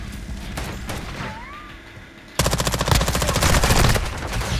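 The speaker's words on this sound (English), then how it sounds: "Taking enemy fire." Gunfire in Call of Duty: Modern Warfare II, with the BAS-P gun featured, opens as scattered shots and then breaks into a loud rapid automatic burst that runs steadily to the end.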